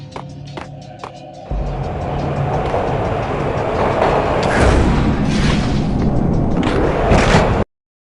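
Train ride in the Max Payne video game: a few sharp clacks and knocks, then a loud, continuous rumbling roar of a moving train with surging bursts, close and alone until it cuts off.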